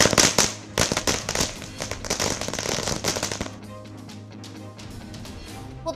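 Diwali firecrackers burst in a dense, loud volley of rapid cracks and bangs, then thin out into scattered distant pops over a lingering crackle.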